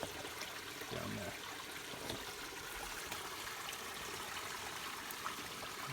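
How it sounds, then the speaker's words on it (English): Water runs through big O piping into an underground pipe system, a steady rushing trickle heard close up without talk. "That's a piece of big O piping that's actually letting the water get into that pipe system"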